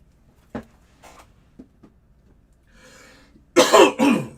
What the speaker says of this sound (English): Dang it, I cannot clear my throat.